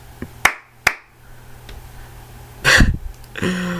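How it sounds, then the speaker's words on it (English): Two sharp hand claps ring out close by, followed by a burst of rustling noise and a brief tonal sound. "Clap your hands. Clap, clap."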